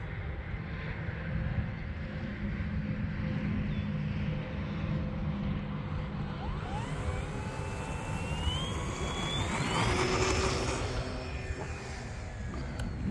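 Model airplane powered by a 4S battery taking off into the wind at dusk, its motor a steady whine with a rising pitch sweep as it climbs and moves off, over broadband wind noise with no talking.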